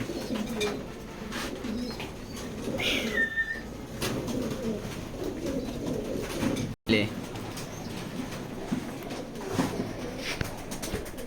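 Racing pigeons cooing steadily in a loft, a dense layered murmur of low coos running throughout at close range, with a brief higher whistle-like call partway through and a momentary dropout.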